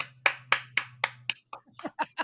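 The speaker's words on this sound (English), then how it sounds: "Clap for that." A small audience gives a short round of about nine sharp, separate claps, close by over a low steady hum. The claps loosen and soften toward the end.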